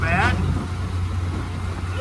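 A 1948 Dodge Power Wagon truck engine droning steadily while driving, a loud continuous low rumble close by with a brief voice at the start.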